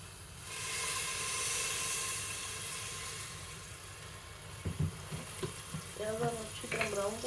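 Chopped onions dropped into hot oil for a desi-style keema, a loud steady sizzle and hiss that settles down, then a voice speaks over the continued frying.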